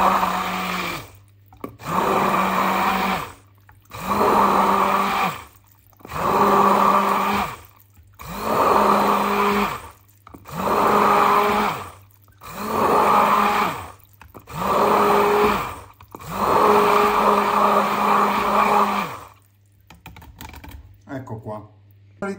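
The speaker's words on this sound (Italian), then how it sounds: "frulliamo il tutto col mini pimer" A mini immersion blender whirs through olive oil, salt and oregano in seven or eight loud bursts a few seconds long, each with a steady motor whine, separated by short pauses.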